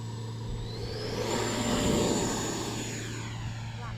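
An E-flite Viper RC model jet spools up and rolls for takeoff, its ducted-fan whine rising steadily in pitch and loudness over a few seconds, heard from close by with no talking.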